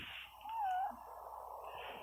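A cat gives a single drawn-out meow near the middle, faint against a steady background hum outdoors.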